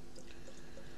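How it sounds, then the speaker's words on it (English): Homebrew beer made from a kit with hops added, poured in a steady, quiet stream of liquid for about a second, heard alone. "Whilst I'm pouring this"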